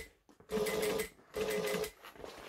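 A sewing machine stitches fabric in two quick, close bursts of rapid needle chatter, each lasting about half a second, separated by a brief pause.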